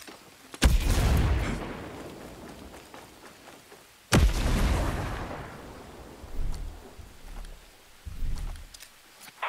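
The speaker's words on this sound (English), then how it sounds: "Throwing a grenade." Grenade explosions in Ghost Recon Breakpoint PVP, two heavy booms a few seconds apart, each a sharp crack with a long low rumbling tail, then softer distant thuds.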